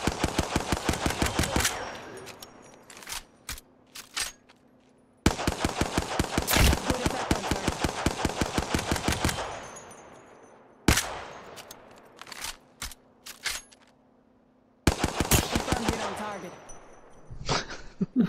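Rapid automatic gunfire in the battle royale game Apex Legends comes in several loud, sustained bursts separated by short pauses, with scattered single shots and faint voices in between.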